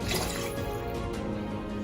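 Red wine vinegar pours steadily in a thin, continuous trickle, splashing softly into a container for a couple of seconds.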